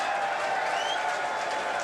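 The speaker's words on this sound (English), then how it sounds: "The crowd's going to start yelling." Crowd at a 2002 professional pool final at Mohegan Sun applauding and cheering, steady dense clapping with yelling that holds at a constant loud level throughout.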